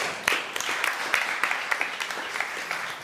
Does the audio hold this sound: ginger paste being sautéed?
no